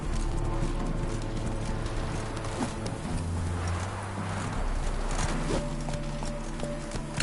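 Roach the horse trotting in The Witcher, hooves clip-clopping in a steady rhythm beneath dense game music and ambient sound, moderately loud and continuous throughout.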